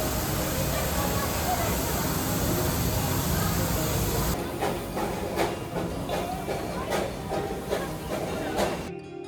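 The Darjeeling toy train runs along its track at Darjeeling railway station, a steady loud rumble and hiss that gives way to rhythmic rail clacks, with people talking over it.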